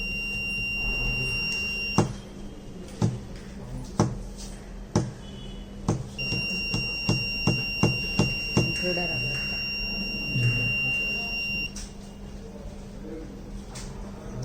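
Steady high electronic beeping tones from a sound-sensor buzzer alert run through most of the clip, with a series of sharp clicks and knocks, and some voice in the background.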